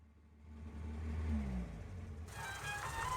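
Car engine with a fault, running with a rising and falling rev and low drone that grows louder midway, then a rougher, brighter layer of noise joins near the end; no talk.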